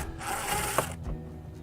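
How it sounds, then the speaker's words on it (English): A power screwdriver whirs briefly while screws come out of the inside of a Coleman-Mach RV air conditioner, a single close buzzing burst of under a second followed by quiet handling. "first we'll take out the screws on the inside here"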